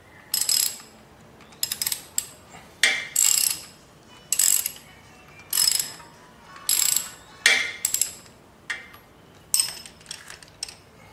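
A ratchet tool loosens a nut on a Yamaha XV 250 Virago motorcycle during an oil pump gear and clutch job, giving about a dozen short bursts of crisp, rapid metallic clicking separated by brief pauses, close and fairly loud.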